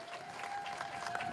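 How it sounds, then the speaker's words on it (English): Community audience in Maui applauding volunteers, a brief, soft, continuous patter of many hands clapping with a faint steady tone beneath. "Let's give a big round of applause for all of the volunteers."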